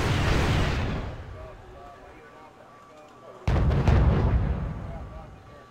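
Buratino rocket artillery firing in the video game Wargame: European Escalation: a loud rumbling roar of launches that fades, then a second heavy blast of rocket fire bursts in close and loud and slowly decays.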